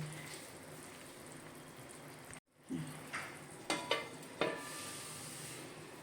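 A pot of water with dried Bombay duck (bombil) boils steadily on medium gas, a soft continuous bubbling hiss broken by a brief cut and a few sharper pops and spits.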